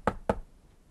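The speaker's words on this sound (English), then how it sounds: "Shall we knock on the door and see if there is a pig in here?" Two quick, sharp knocks on a door land close together, followed by a quiet pause, with no voices.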